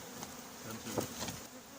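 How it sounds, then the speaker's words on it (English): Bees buzz from a hive inside a large coral rock during an extraction, a faint, steady hum with a few slightly louder swells and no speech. "Now we're going to use the vacuum to suck out the bees."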